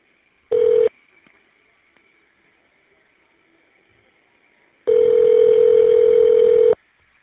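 An Evercom jail phone line dialing the number before a correctional-facility call connects, with a short steady tone burst, a quiet gap, then a longer sustained tone of about two seconds, clear and close.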